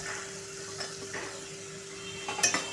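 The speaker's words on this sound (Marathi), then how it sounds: "आणि भोपळा आपण परतून घ्यायचा आहे." Chopped pumpkin is stirred into softened tomatoes in a pan, a quiet sizzle under a few soft scrapes and light clinks of a utensil against the pan near the end.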